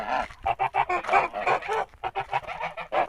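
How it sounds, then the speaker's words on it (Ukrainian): Four-month-old Kholmogory geese honk repeatedly at close range, a rapid, overlapping series of nasal calls with no talking. "Є вроді ось такі три гусочки."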